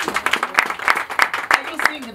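Audience at a birthday celebration clapping in loose sharp bursts, close and fairly loud, with talk running over the applause.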